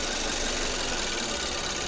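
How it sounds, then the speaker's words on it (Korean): A car engine idles roughly while the throttle fails to hold a steady idle and the engine shakes. It makes a dense, continuous mechanical rumble at close range, heard alone with no talking. "자, 이제 엔진이 떨기 시작하죠. 붕붕."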